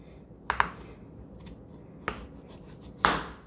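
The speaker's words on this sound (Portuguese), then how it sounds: "Então aqui a gente vai fatiar mais ou menos nesse tamanho." A knife slicing a sweet potato into rounds on a board, three crisp, close chopping strokes spaced about a second apart with quiet pauses between them.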